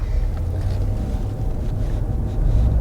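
A 2021 Ram 1500 Laramie 4x4 crew cab with its Hemi V8 running while driving, heard as a steady low rumble mixed with road and wind noise inside the cab.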